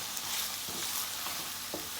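Eggplant and eddoes frying in a pan while being stirred, a soft continuous sizzle with occasional light scraping knocks from the spoon, fairly quiet and close.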